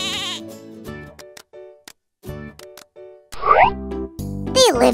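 Goats at a zoo bleat in a series of loud, close, wavering cries, some long and some short, with brief pauses between them and no talking.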